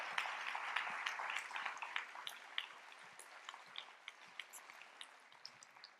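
An audience at a French-language talk on metabolic psychiatry claps, a fairly faint, dense patter of applause that thins out into scattered individual claps toward the end.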